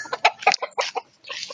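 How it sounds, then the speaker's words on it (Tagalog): Fighting cocks on a Philippine provincial farm clucking in several short, close bursts, a cluster of clucks followed by a brief pause and then more clucking. "Kasi kung manok na panabong habang hanap nyo, marami kami niyan."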